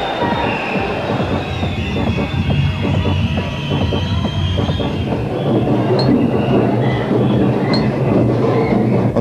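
A London Underground Central Line train rumbles and rattles along the track for about nine seconds, with rhythmic clacks of wheels over rail joints, a steady low throb and a few faint squeals.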